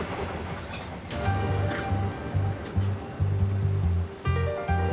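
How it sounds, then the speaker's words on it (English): Comfortable passenger train from the Tbilisi rolling stock company riding through Georgian countryside on the line toward Gori, with steady rumble, rhythmic low rail thumps and faint metallic clinks throughout. "This is a nice, comfortable train, presumably a product of the Tbilisi rolling stock company."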